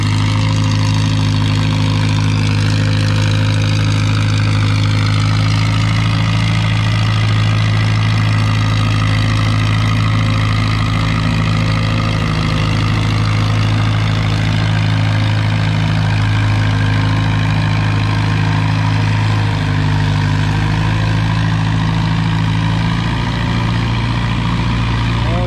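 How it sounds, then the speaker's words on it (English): Farmall Super tractor engine under load in a vintage tractor pull, a loud steady low drone with strong harmonics running throughout, alongside a crowd's and announcer's voices. "Comes to the stop, full pull for the farm all super duper in."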